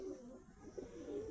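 Male pigeons of mixed breeds, including Saharanpuri, Napta, Kalshira and Madras, coo steadily inside a cage, a low rolling murmur of overlapping calls that swells and dips close by for the whole stretch.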